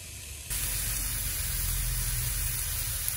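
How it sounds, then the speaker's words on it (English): Steady, loud sizzling hiss of food frying in a pan. It kicks in abruptly after a brief quieter moment and holds evenly, with no voices. "Here we are frying up."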